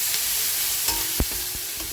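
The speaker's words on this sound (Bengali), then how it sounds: "আমার পেঁয়াজটা ভাজা হচ্ছে" Onions frying in a pan make a steady bright sizzle throughout, broken by a few soft knocks of a utensil stirring, with no one talking.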